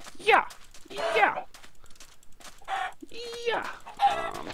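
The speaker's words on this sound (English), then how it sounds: "Giant chickens, strike again." Giant chickens in a dungeon video game let out harsh, loud clucks and squawks in several bursts. Excited players talk over them throughout.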